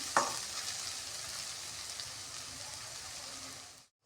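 Onions sautéing in a pan on low heat for tomato rice, a faint steady hiss of frying after a brief clink at the start, continuous and even until it cuts off.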